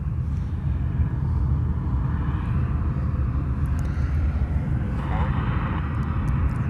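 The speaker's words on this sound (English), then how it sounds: "That's a 321. That's Hawaiian flight 810. It's heading off to LA" A Hawaiian Airlines Airbus A321 on flight 810 departs Honolulu for Los Angeles, its jet engines making a steady, distant rumbling roar that stays even throughout, with no voices standing out.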